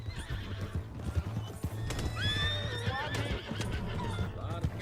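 Horse hooves clip-clop at a gallop with a sharp neigh rising over them, set in the Red Dead Redemption 2 video game; a low steady tone hums underneath and faint voices murmur briefly.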